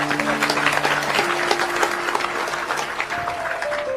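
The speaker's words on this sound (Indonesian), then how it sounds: "Jadi saya minta Anda tepuk tangan untuk Mas C ya." A crowd at an Indonesian Maiyah gathering with a wayang puppet performance claps steadily for a few seconds, moderately loud, with a faint sustained tone and a murmur of voices underneath.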